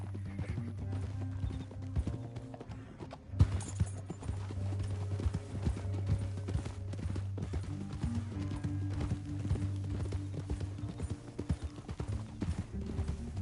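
Horse hooves clip-clop steadily in the Red Dead Redemption 2 video game, a continuous rhythmic trotting close by over a low, droning game soundtrack, with a brief whinny-like accent partway through.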